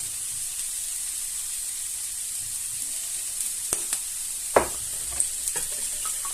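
A leek mixture with eggs, salt, pepper and cumin being stirred in a pan, giving a soft steady hiss with a few light scraping clinks of the utensil later on.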